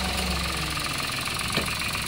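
A Toyota Wigo 1.0-litre engine idles steadily close by, giving a constant even hum with a faint knocking texture and no talk over it.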